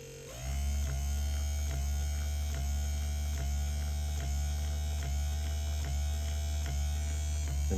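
An electric windshield wiper motor from a 1957 Chevy truck runs with a steady, close electric hum and buzz. A faint rhythmic tick repeats under it about every second, with no voices.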